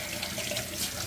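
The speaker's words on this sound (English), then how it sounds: "Wash off your hands." Hands being rinsed under a running kitchen tap, a steady close hiss and splash of water that lasts only a moment.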